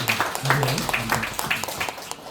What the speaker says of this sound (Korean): 박수! 굉장히 감사합니다